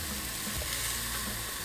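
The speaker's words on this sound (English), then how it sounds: "So let's go ahead and baste the ribs." Steady close sizzling and crackle of pork spare ribs on a charcoal kettle grill being basted with barbecue sauce mixed with apple cider vinegar, a continuous hiss with faint soft dabs and no voices.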